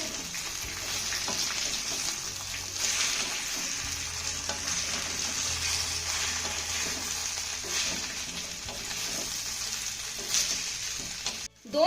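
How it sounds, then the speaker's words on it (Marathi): Spinach sticks sauté with sesame seeds in a pan, giving off a steady moderate sizzle for several seconds. Faint stirring scrapes run through it, and a sudden loud clunk comes right at the end. "त्यानंतर ह्या वड्या आपल्याला यामध्ये घालायच्या त्यानंतर दोन मिनिटं याला छान असं परतून घ्यायचं आहे"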